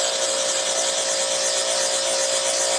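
Sharpening metal on a coarse grinding wheel, a continuous bright whine with a steady hiss that stays loud and unbroken throughout, close to the listener with no talk.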